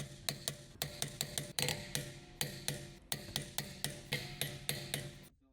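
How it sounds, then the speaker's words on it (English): A torque wrench with a 17mm deep socket ratchets as it tightens the rear wheel lug bolts of a 1999-2007 BMW E46 325ci, giving rapid, regular close clicks in short bursts that end abruptly. "Use a 17mm deep socket with the torque wrench to tighten the rear wheel lug bolts."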